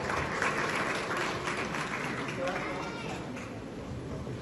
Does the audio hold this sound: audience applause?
yes